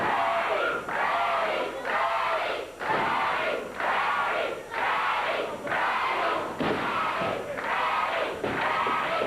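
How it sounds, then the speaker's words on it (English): Wrestling arena crowd at a Memphis championship wrestling match chanting in a steady rhythmic pattern, loud bursts repeating about once a second, filling the hall with cheering. "Lawler leading the cheers. The crowd, Freddie, Freddie."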